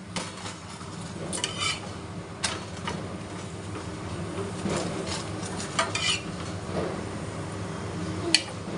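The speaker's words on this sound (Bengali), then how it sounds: "আমি এখানে পরোটাটা ভাজছি" Paratha frying in a pan in a home kitchen: a steady, close sizzle with scattered scraping and light clinks of a utensil, no voices.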